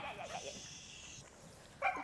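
A dog makes short whimpering, yipping sounds toward a hen, faint and fairly distant, ending in one sharper bark-like burst, over a steady background hiss.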